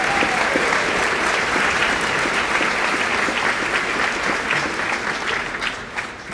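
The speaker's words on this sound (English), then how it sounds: "If you please give them a round of applause." A high school graduation crowd breaks into sustained applause, loud and dense clapping from many hands that holds steady for several seconds before tapering slightly at the close, with no voices over it.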